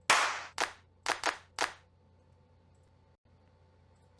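Five sharp drum-kit clap samples played in sequence, the first longer and brighter, then a pair of quick hits and one more before falling quiet over a faint steady hum.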